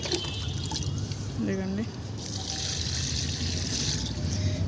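Liquid fertilizer poured from a mug onto garden plants, including sweet potato and eggplant: a brief soft pour and splash under outdoor background noise while someone talks.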